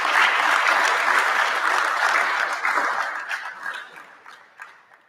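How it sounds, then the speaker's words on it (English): An audience gives a sustained round of applause for the funders of a startup demo day, loud and dense at first, then thinning out and fading over the last couple of seconds. "can you please give all of our funders a big round of applause for making this happen?"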